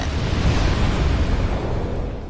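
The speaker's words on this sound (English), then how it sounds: "It doesn't really look like that explosion reached" A loud, broad rumbling explosion from barrels blown up in the video game Dark Souls 2, a dense roar that sustains and slowly fades over a couple of seconds with no talk.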